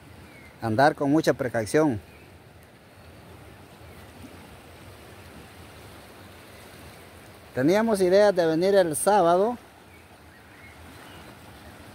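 The swollen Torola River rushes as a steady, low wash in the background, with two bursts of nearby speech on top of the flow.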